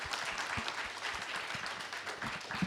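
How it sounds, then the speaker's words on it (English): An audience at an HR and training event claps as loudly as it can, a dense, lively burst of many hands with a few sharper individual claps standing out close by. "First, please clap as loud as you can."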